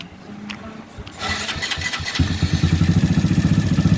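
A Honda MSX motorcycle engine cranks with a few starter whirs, then catches and settles into a loud, steady, pulsing idle close by.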